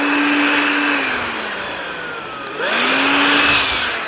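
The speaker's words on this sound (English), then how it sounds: "So I'm just vacuuming any dirt away from the pinch weld here." Vacuum cleaner sucking dirt from the pinch weld of a Toyota Hi-Lux windscreen opening, a loud continuous whine whose pitch dips as the nozzle is briefly restricted, then rises again.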